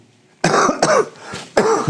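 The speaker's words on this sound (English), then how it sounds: "as I talk, the coughing comes" Three or four harsh, close coughs from a lecturer with a cold, in quick bursts separated by brief pauses, with a throaty rasp and no talking.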